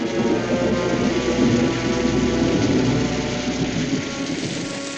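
A heavy rainstorm with thunder in a frontier-era TV western: dense, steady downpour with low thunder rumbling underneath, loud and continuous, easing a little toward the end, with no voices.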